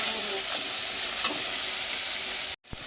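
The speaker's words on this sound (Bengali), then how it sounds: "একটু লবণ দিলাম, দিয়ে চিংড়ি মাছটা ভেজে নেব।" Prawns frying in a hot wok with turmeric and salt, giving a close, steady sizzle with a couple of brief sharper spits before it cuts out abruptly near the end and then resumes.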